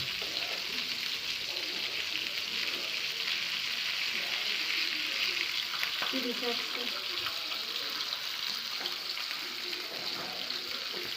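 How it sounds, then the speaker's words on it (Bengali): Sea coral fish (barramundi) frying in a pan gives a steady, even sizzle with a dense hiss that holds at a constant level throughout, with a few faint clinks and stirring sounds underneath. "হালকা ভাজা দেওয়া হলো, উঠাও"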